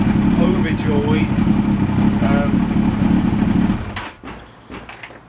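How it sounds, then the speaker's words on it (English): A Yamaha FZS1000 Fazer motorcycle engine idles steadily and close for about four seconds, then drops away, with someone talking over the running engine. "now I've got a bike that starts on the button every time"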